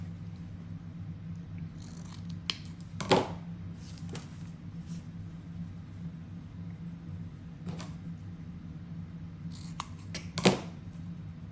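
Scissors snipping ribbon tails for a bow, a few quiet separate cuts spread out over a low steady hum, each with a short crisp rustle, no talking.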